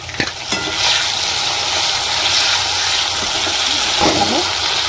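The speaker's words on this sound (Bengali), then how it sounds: "এবার দিচ্ছি আমি আদা বাটাটা" Ginger paste frying in a pan while cooking a vegetarian potato curry (aloo dum), a steady loud sizzle throughout with a few brief clinks and stirring scrapes near the start and around the fourth second.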